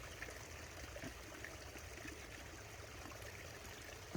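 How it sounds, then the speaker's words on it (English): A small brook on a rural property runs full after heavy rain, a steady, close rushing and trickling of water that continues unbroken with no voices. "I hope you can hear that little brook behind me."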